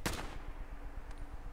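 Gunfire in the video game Fallout 4: one sharp, loud shot at the start that rings out and decays, followed by a faint second crack, with no talking.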